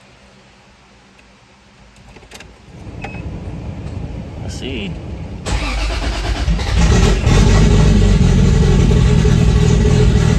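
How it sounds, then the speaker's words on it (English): A car engine, a 2JZ-GTE in a Conquest with a T56 gearbox, cranks and catches, then settles into a loud, steady idle close by, with a brief spoken remark over it. "We'll put the key in and start her up."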